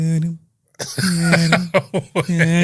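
A voice hums and grunts in short rhythmic bursts, imitating a menacing, approaching shark theme, close and loud.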